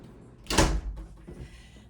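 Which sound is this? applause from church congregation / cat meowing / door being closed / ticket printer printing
door being closed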